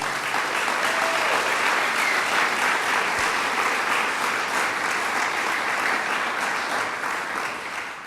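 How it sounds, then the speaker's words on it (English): Sustained, dense applause from a crowd at a governor's bill signing, steady and loud for several seconds before tapering slightly at the end. "Let's give her a round of applause"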